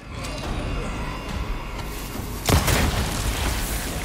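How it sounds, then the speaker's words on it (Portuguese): A deep explosion booms midway through a Resident Evil 4 Remake gameplay scene, a sudden loud blast rising over a dense rumbling game soundscape that keeps going afterward. "Nossa, que linda essa explosão."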